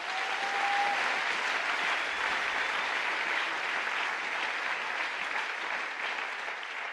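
Sustained applause from a church seminar audience at the closing session on overcoming divorce, a dense steady clapping crowd that fills the whole stretch and eases only slightly toward the end.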